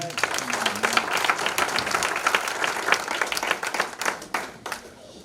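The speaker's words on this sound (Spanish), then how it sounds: "Den un aplauso al Señor" A church congregation claps together during a sermon on marriage, producing a lively, dense applause that runs for several seconds and then tapers off, with voices heard through it.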